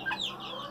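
Short, close clucks from a single white bantam hen: a couple of quick, raspy vocal notes against a quiet background, with no talking.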